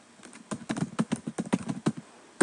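Typing on a computer keyboard, a quick irregular run of close, crisp key clicks with brief pauses and a firmer final keystroke.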